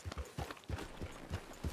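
Hooves of a horse in Red Dead Redemption 2 clop in a steady rhythmic gait, about seven evenly spaced thuds close and clear.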